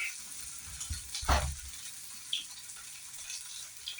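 Hash browns sizzling in hot oil in a pan, a steady frying hiss with a louder burst of spitting as a smaller piece is dropped in, then a brief crackle before settling back to a gentle sizzle.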